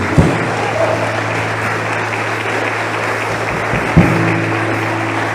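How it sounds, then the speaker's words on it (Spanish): A church congregation breaks into steady applause that fills the room, with a sustained hum running underneath and a couple of louder bursts near the start and around four seconds in. "dale un fuerte aplauso a Jesús."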